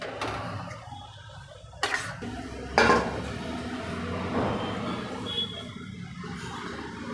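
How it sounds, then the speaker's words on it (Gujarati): A lid set down on a pan of Gujarati dhaba-style drumstick curry, giving a couple of sharp metallic clanks against the pot amid quiet kitchen background noise. "હવે ઢાંકણ ઢાંકી અને તેલ છૂટું પડે ત્યાં સુધી એને થવા દેશું"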